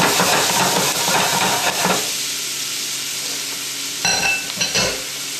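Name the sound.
snap peas sizzling in a hot pan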